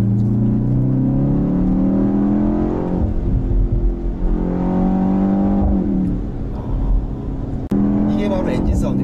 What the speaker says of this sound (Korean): 이게 바로 엔진 사운드입니다. 이게 바로 배기 사운드고